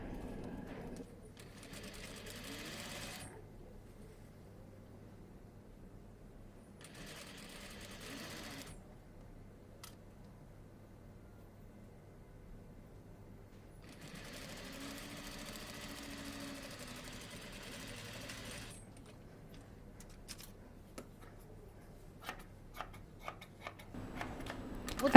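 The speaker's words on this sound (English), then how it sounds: "Next, we'll stitch the facing to the button stand to show you how it should look like." A sewing machine stitches a facing onto a coat's button stand in several short runs of steady, soft mechanical whirring, separated by quiet pauses and ending with light clicks and handling noises nearby.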